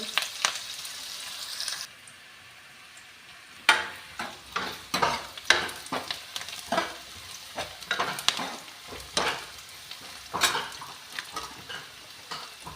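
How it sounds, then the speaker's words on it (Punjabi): Onions being stirred and fried in a pan for a capsicum and potato sabzi, with a steady sizzle broken by repeated scraping stirs in an irregular rhythm, close and fairly quiet, and a brief lull near the start. "ਆਪਾਂ ਪਿਆਜ਼ਾਂ ਨੂੰ ਲਗਾਤਾਰ ਹਨਾਉਂਦੇ ਹੋਏ ਜੀ ਇਹਨਾਂ ਨੂੰ ਆਪਾਂ ਲਾਈਟ ਬਣਾਉਂਦੇ ਆ"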